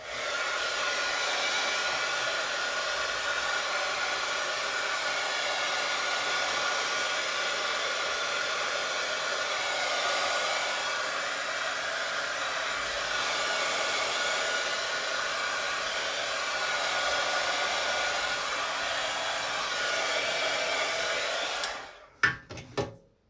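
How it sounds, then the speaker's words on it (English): A heat gun blows steadily over an alcohol ink painting of a bunny, a loud continuous airy roar that holds for about twenty-two seconds before cutting off abruptly, followed by a few brief handling knocks. "Gonna go back with my heat gun again."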